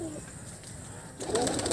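Breeder pigeons with young coo in low, soft murmurs nearby, growing louder and busier in the last half second as more birds join in.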